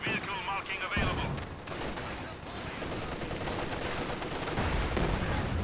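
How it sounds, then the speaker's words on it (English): An HT-34 and a rear transport fire in Company of Heroes 2, with dense, continuous rattling gunfire and thumping shots in a busy battle mix, a voice briefly audible near the start. "HT-34 firing away against the guards. Rear transport is firing away."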